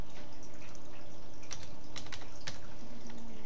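Light typing on a computer keyboard, a few scattered clicking keystrokes over a steady quiet background hum, with no talking.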